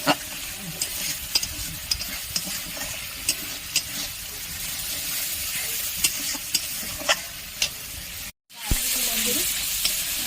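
Soybean curry base fries steadily in a pan after two spoons of sour yogurt go in, a dense continuous sizzle with scattered stirring clicks, briefly cut near the end before resuming louder.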